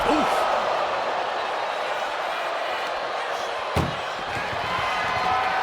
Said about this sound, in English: Trying to force the first door. First door shut.